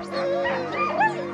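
Sled dogs on a dog-sledding course in Durango, Colorado yip and whimper eagerly, a close, continuous burst of high whines and short barks.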